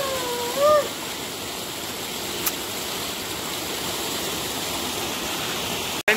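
A waterfall at Chimanapalli gives a steady, even rush of falling water, moderately loud and unbroken throughout, with a brief chirp near the start.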